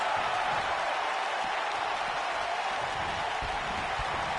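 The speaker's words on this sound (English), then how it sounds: "the crowd is loving Sasha's act" A crowd in a wrestling video game on PS4 cheers and applauds in a dense, steady roar that holds at constant loudness throughout.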